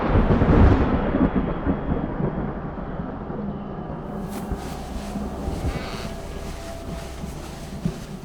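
A thunderstorm rumbles steadily, with a loud roll of thunder near the start fading into continuous low rumbling and wind-like noise throughout, no voices.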